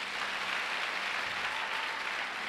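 A church congregation applauds and cheers in a steady, continuous wash of clapping, fairly faint and without distinct individual claps.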